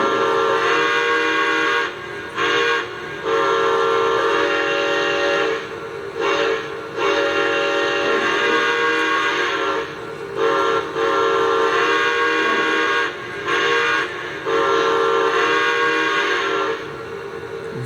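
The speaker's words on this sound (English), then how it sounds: "Let's give a listen to that last whistle one more time." Lionel Legacy Santa Fe Blue Goose 4-8-4 Northern model steam locomotive sounding its whistle, a loud sustained chord repeated in several long blasts broken by short gaps, with no talk.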